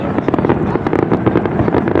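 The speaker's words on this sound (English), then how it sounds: "this is the, I think like the last 10 minutes or the finale of the fireworks show" Dense, rapid bursts of Fourth of July fireworks during a show finale, loud and continuous crackling and booming with no pauses between blasts.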